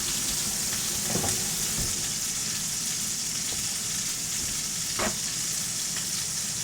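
Meat and mushroom meatballs fry in a pan with a constant close sizzle, broken by a few brief scrapes or stirs.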